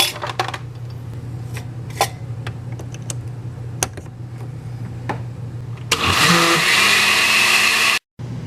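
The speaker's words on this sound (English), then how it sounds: "then I will put it in the blender" A blender whirs into action on hot tomato soup, starting loud and steady after several seconds of small clinks and kitchen clatter, running continuously near at hand before a brief cut-out.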